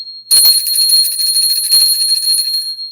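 A bell rings once loudly with a bright metallic tone that keeps ringing, then a second lighter strike comes near the end, close and alone.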